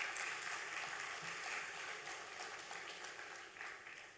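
Audience applause at a school graduation ceremony, a dense, steady patter of many hands clapping at a moderate distance and filling the whole few seconds without talk.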